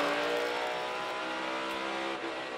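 A NASCAR Cup Series race car accelerates hard at Richmond Raceway during the Toyota Owners 400, its engine holding a loud, steady, high-pitched roar close by for the whole stretch with no voices over it.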